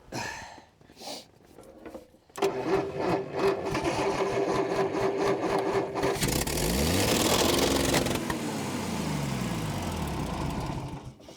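A bush recovery truck engine with its throttle stuck open roars at high revs after a quiet start, loud and sustained, with the pitch shifting and sweeping partway through.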